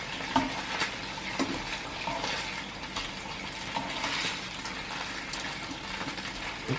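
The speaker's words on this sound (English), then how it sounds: "And my meat is still cooking." Hamburger meat fries in a pan with a steady, close sizzle and dense crackling spatter, punctuated by a few sharper pops and scrapes throughout.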